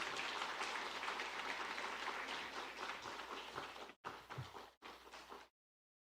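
Church congregation at a Sunday morning worship service claps to welcome the pastor, a faint, dense wash of applause that dips twice near the end and then cuts off abruptly.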